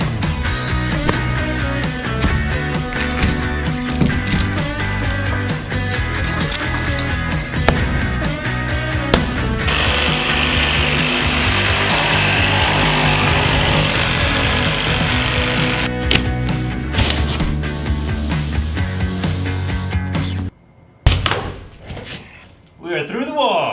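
Power tools cutting through a shop wall, loud grinding and whining bursts with knocks and clatter, a sustained harsh stretch in the middle, then a sudden drop and a few final thuds.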